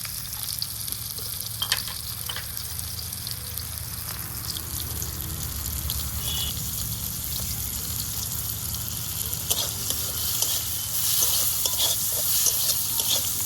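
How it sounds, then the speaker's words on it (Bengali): Bitter gourd pieces fry in a pan with turmeric and salt, giving a steady, continuous sizzle with soft stirring scrapes throughout, growing slightly louder toward the end. "উচ্ছেটা একটু ভেজে নেব"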